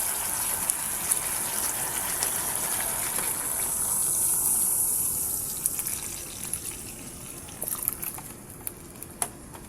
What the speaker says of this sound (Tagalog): Magdadagdag ulit ako ng tubig.